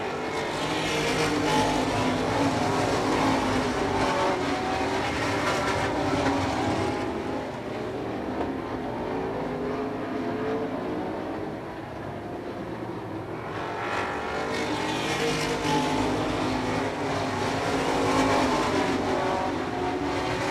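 Race cars in a 1989 weekly race at Hudson Speedway roar continuously around the track, a dense, loud engine drone that swells and eases as the field passes.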